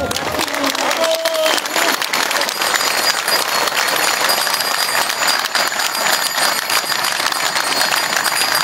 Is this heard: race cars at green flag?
no